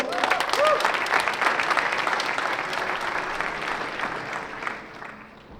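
A crowd applauds at a disc golf European Championship, a dense burst of clapping that starts strong, holds for several seconds, then thins and fades toward the end.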